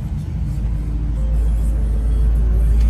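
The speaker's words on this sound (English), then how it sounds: "it'll start up, it'll go to about 700-800 RPMs, then it'll idle up to about 18, maybe 2000" A custom 1956 Chevrolet Bel Air engine idles with a loud, steady low rumble, settling into an even, continuous drone after a slightly rougher start.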